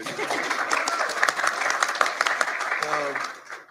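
A seated audience breaks into steady applause, a broad wash of many hands clapping at once that fades near the end as a voice briefly comes in.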